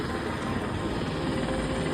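A helicopter comes in to land, its rotor and engine making a steady, dense, rumbling roar that stays constant throughout, with no one speaking.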